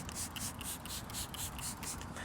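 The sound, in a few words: spraying glass cleaner onto glass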